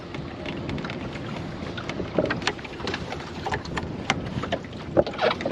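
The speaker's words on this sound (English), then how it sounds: "the breeze is just picking up when I need it most" A steady breeze rushes past a Welsford Navigator sailing dinghy off Plymouth, a constant broadband wind noise with small bumps from water and rigging and no talking.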